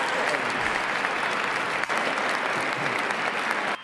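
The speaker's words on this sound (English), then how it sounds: "we have Elon clapping for us" Applause sound effect: dense, steady clapping from many hands lasts throughout at even loudness before cutting off abruptly, with no voices over it.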